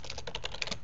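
Quick typing on a computer keyboard, about eight close, crisp key clicks in rapid succession under a faint background hum.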